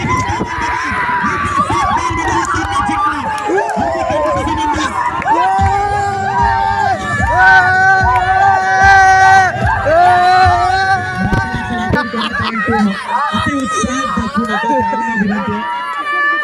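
A crowd celebrating a local cricket league match win, loud sustained cheering, shouting and screaming with overlapping voices and babble throughout.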